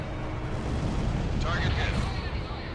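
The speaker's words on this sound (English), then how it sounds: "Garuda 1 launched missile." A missile launches in the combat flight game Ace Combat 6, a low, sustained rocket roar and rumble with a brighter whooshing burst partway through, loud and continuous.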